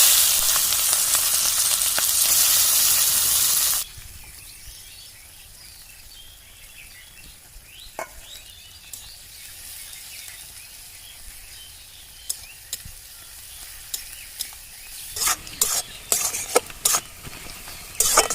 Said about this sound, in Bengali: পেঁয়াজ আমি ভালো করে ভেজে নিয়েছি লাল করে